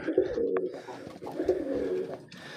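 A Jalali pigeon, a wild-type rock pigeon that flies in to a village home, gives repeated low, throaty coos close by. Faint chirps and light background noise sit beneath it, and no one speaks.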